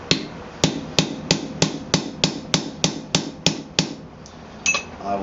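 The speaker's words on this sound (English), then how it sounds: "I will hammer to flatten that terrain down." A hammer pounds hot steel while forging blacksmith tongs in a steady rhythm, about a dozen sharp ringing blows, close and evenly spaced, slowing slightly near the end.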